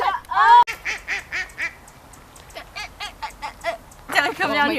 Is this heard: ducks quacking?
yes